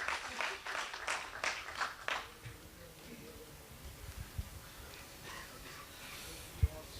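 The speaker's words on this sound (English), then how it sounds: "Big round of applause." An audience claps for a volunteer at a talk, a dense burst of applause that fades after about two seconds into quiet room noise with a few faint knocks.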